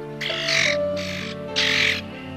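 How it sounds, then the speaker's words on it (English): A large flock of grackles squawks in harsh, loud bursts, two main surges of raspy calls over a steady chattering din of many birds close by. "Astonishing swarms of grackles."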